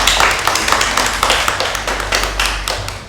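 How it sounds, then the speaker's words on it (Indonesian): A small group claps for a presenting team in a classroom, with loud, close claps in uneven bursts that fade slightly toward the end. "beri tepuk tangan untuk kelompok 2"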